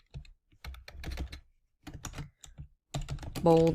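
Someone types on a computer keyboard while working in Canva, with irregular clusters of quick, close key clicks separated by short pauses and a brief spoken sound at the very end.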